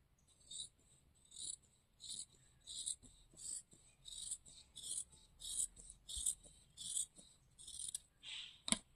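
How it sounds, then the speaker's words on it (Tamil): Scissors cutting the sleeve portion of blouse fabric make a quiet, regular run of crisp snips, roughly a dozen in steady rhythm, ending in a slightly louder final cut, close by and without talk. "நான் இப்போ ஸ்லீவ் போர்ஷனை வந்துட்டு கட் பண்ணி தனியாக எடுத்துடுறேன்"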